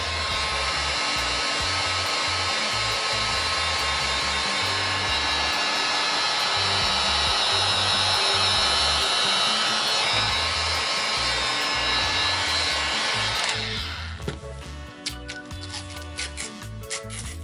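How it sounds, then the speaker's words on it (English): A heat gun blows a loud, steady, broadband whoosh while softening resin on tape, running unbroken for about fourteen seconds before cutting off, leaving faint clicks and scraping behind. "I'm going to run the heat gun over the tape to soften the resin"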